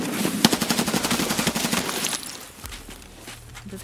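Rapid bursts of automatic gunfire from Escape from Tarkov crackle loudly in a tight rhythmic string for about two seconds, then cut off into quieter background noise.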